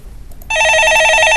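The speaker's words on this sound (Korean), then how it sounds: "예, 전화 받아보겠습니다." A telephone on a call-in stock market show starts ringing for an incoming call, a loud, steady electronic trill that begins abruptly after a brief quiet moment and continues to the end.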